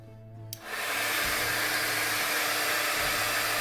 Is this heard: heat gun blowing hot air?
yes